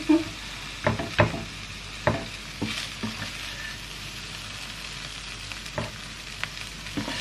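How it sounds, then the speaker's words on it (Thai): Pad Thai with thin rice noodles stir-fried in a home kitchen with egg and bean sprouts, a soft sizzle under a series of sharp scraping, clinking spatula strokes at an uneven pace. "ผัดไทยเส้นเล็ก"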